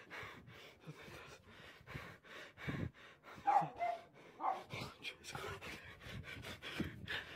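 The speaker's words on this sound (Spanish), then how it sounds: "Le está ladrando a alguien, mi perro ahí." A pet dog barks in short, scattered bursts with some panting in between, fairly faint and indoors, with no talk over it.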